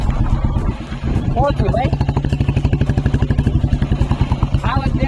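A tractor engine at the Madhavpur village fair chugs close by in a steady, fast pulsing rhythm, with people talking over it.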